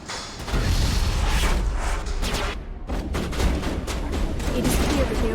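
In a Mass Effect firefight, a grenade explosion and gunfire make a dense, loud barrage of booms and rapid shots. A brief gap falls near the middle, then the barrage resumes without pause.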